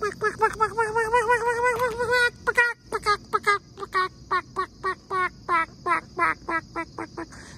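Farm duck quacking in a rapid series of loud, close, nasal calls, first a longer run of quacks and then a string of short evenly spaced ones.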